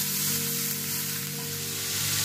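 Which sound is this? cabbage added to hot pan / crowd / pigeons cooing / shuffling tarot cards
cabbage added to hot pan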